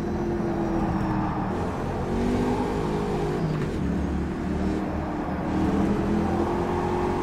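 A Panoz Roadster engine drifting in rFactor 2 roars with sustained load, its pitch sweeping up and down through the first three gears, loud and close throughout.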